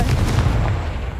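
A Confringo spell blast from the video game Hogwarts Legacy, a loud, dense burst that rumbles on for about a second with no talk over it.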